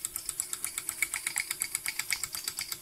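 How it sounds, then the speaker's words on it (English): A Mamod Centurion TE 1313C model toy steam engine, modified, runs on live steam while driving a generator under load, giving a fast, steady run of light chuffing exhaust beats with a faint mechanical rattle and no talking. "It's nice seeing an engine working under a bit of a workload."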